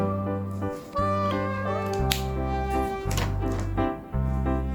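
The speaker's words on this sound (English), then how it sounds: "C for cat." Cat meowing in a children's alphabet lesson, heard as a short meow over a bouncy, looping music track with a tapping beat.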